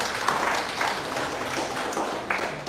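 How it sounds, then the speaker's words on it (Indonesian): Applause from a seated seminar audience, moderate and somewhat uneven with scattered sharper claps rising out of a diffuse wash, and no speech over it. "Saya rasa kita tepuk tangan dulu dong Ibu Bapak"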